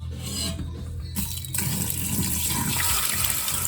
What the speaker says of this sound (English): So I gotta dump the water because it's really gross.